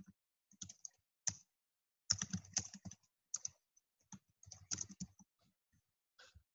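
Typing on a computer keyboard while setting up a button in a sales funnel page builder: short, close bursts of crisp key clicks separated by pauses, with no talking.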